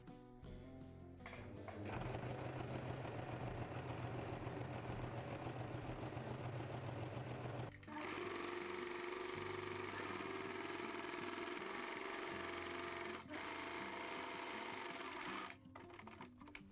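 A sewing machine top stitching tracksuit seams runs in a steady, continuous mechanical whir close up, pausing briefly and changing speed between rows of stitching.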